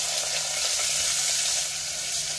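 Onion sizzles in hot oil already seasoned with cumin, mustard seeds and asafoetida, a dense steady crackle close by, loud and continuous with no talk.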